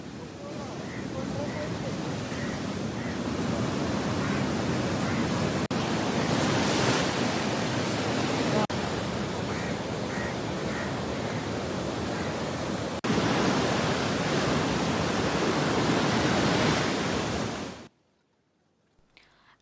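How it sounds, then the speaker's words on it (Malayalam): Heavy sea swell waves surge and crash onto the shore in a loud, continuous roar that hardly changes for about eighteen seconds before cutting off abruptly. "കുഴിപ്പൻ തിരമാലകളാണ് നാശനഷ്ടമുണ്ടാക്കിയതെന്ന് സമീപവാസികൾ പറഞ്ഞു"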